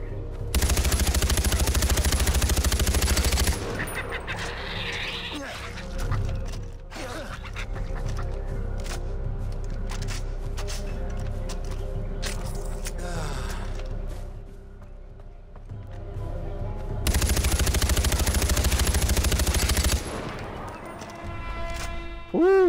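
Loud, dense bursts of gunfire in the video game Far Cry 4 come in sustained volleys at the start and end, with scattered shots and game noise between them while someone talks.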